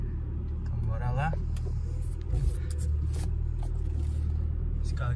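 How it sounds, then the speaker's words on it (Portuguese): A Toyota Supra engine rumbles low and steady while the car is turned and reversed, someone speaking over the idle throughout. "Vou virar ele de ré aqui pra facilitar enxergar as coisas"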